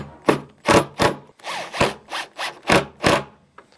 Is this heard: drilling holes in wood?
yes